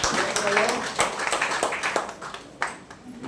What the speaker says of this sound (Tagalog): Sige po, bigyan natin the best ng palakpak.